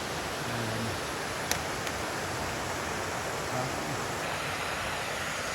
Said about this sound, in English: Right next to that waterfall.